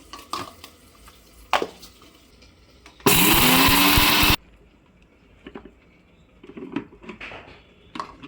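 A mixer grinder grinds roasted spices in its jar, one loud steady whirring burst of about a second and a half. Kitchen clatter and light handling sounds come before and after it.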